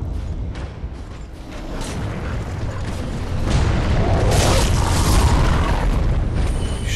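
Arrows from tower archers thudding and striking close by in Dark Souls 3, sharp impacts over a rumbling, booming game soundscape that swells louder toward the end.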